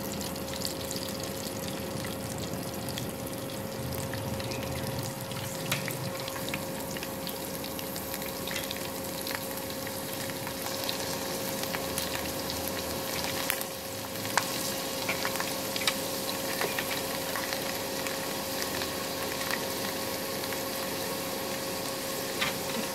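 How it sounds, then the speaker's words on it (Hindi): Garlic frying in hot oil in a pan for a dal tempering, a steady soft sizzle and crackle running continuously at low level with faint clinks. "सबसे पहले हम लहसुन डालेंगे।"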